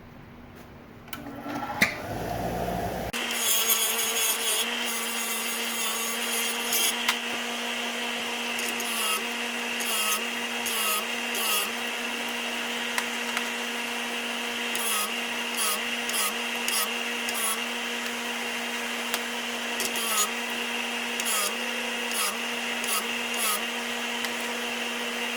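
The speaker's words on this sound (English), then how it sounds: "Now I'm going to clean all the attaching hardware up with that wire wheel on my grinder here." A wire wheel on a grinder cleaning attaching hardware from a 1993 Johnson Evinrude 40 HP gearcase, starting with a whirring spin-up, then a steady loud whine with repeated scratchy bursts as parts are pressed against it.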